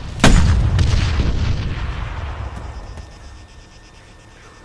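A heavy gunshot or blast in the military game ArmA 3 booms once and loudly, then rolls off into a long fading echo with no talking.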